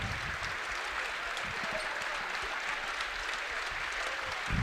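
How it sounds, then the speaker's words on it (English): A crowd cheers and applauds in a standing ovation as seniors are recognized at a girls' basketball regional final, a steady wash of clapping and cheering heard at a distance. "Okay, crowd cheering. The seniors coming out."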